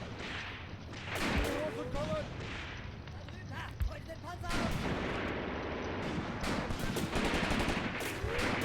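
Dense gunfire and artillery blasts in the WWII tactics game Graviteam Tactics: Mius-Front, a steady crackle of rifle and machine-gun shots punctuated by heavier booms, with a faint voice murmuring underneath.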